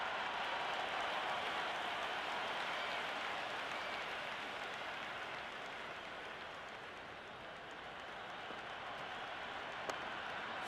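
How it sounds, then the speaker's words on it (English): A stadium crowd in the Cricket 26 video game roars and applauds steadily throughout, a broad wash of cheering that stays loud and continuous, easing slightly in the middle before swelling again. "It's evident and ever so audible that the crowd is at near bursting point at today's play."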